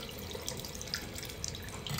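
Warm water runs steadily from a household tap into a sink as hair is rinsed, a close, continuous splashing hiss.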